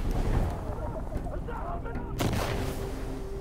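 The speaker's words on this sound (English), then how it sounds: "I called mortars on its position" Mortar strikes in Insurgency: Sandstorm, a series of booming explosions with a sharp blast near the middle, rumbling under distant gunfire and faint voices.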